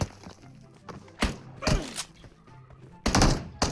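Gunfire from the mobile battle-royale game PUBG Mobile as a player shoots at a bot: several loud, sharp broadband bursts spaced irregularly, with the heaviest cluster near the end, over a low in-game background hum.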